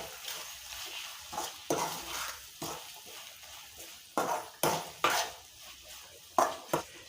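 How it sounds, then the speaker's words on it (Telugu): Ivy gourd fry stirred with garam masala in a pan, a spoon scraping and knocking against the metal in sharp, uneven strokes over a faint sizzle, with no talking. "అలాగే కొంచెం గరం మసాలా, వీటిని వేసుకొని బాగా కలుపుకోవాలి."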